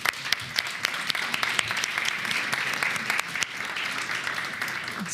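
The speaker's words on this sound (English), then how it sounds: "All right, a round of applause" Conference audience at a digital green-tech event breaking into applause, a full, steady patter of many hands with a few sharper claps standing out, lasting about five seconds.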